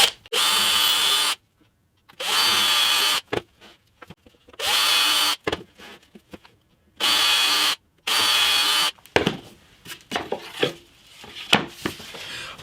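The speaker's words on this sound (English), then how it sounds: "I'm going to drill some pilot holes" A power drill whirs in five short bursts separated by pauses, drilling pilot holes in wooden blocks for an acoustic guitar repair, followed by lighter knocks and handling clatter toward the end.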